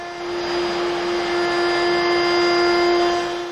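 A woodworking router fitted with a quarter-inch radius roundover bit runs steadily while shaping quarter-round molding from a larger board, giving a loud, sustained high-pitched whine that rises slightly mid-cut.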